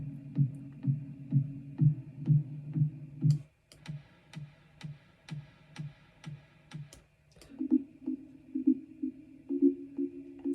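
Soft, low kick drum thumps and mellow marimba tones pulse in a steady rhythm, washed in reverb, with a stretch of sharp clicks in the middle.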